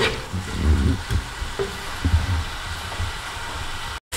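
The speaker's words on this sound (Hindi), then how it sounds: "इन प्याज़ों को हम करेंगे घी में फ्राई।" Onions fry in hot ghee with a steady close sizzle, punctuated by a few louder bursts and stirring scrapes, with a brief dropout near the end.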